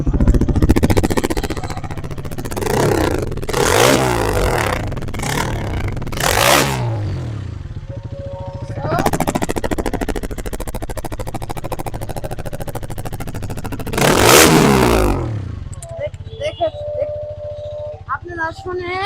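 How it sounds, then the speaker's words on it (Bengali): A Hero Karizma XMR 210cc six-speed motorcycle is revved hard in several loud throttle bursts through its exhaust, with rumbling idle between them and a voice talking at times. "Throttle sound, sorry exhaust sound."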